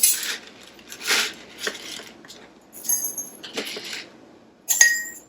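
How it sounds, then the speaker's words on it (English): Peppercorns drop into glass canning jars during pickled pepper preparation, producing several separate bursts of small hard clinks and rattles, close and fairly loud, with quiet gaps between the pours. "you want a half a teaspoon of peppercorns. And that goes into each jar."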